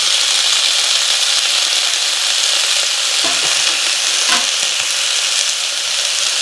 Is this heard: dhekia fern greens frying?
yes